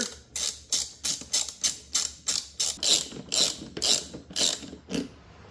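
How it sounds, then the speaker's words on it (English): A ratchet clicks about a dozen quick, even strokes while snugging a large hose clamp on the turbo intake of a 2025 Ford F-series truck, close and clear with no talking. "Now snug up our gigantic hose clamp here."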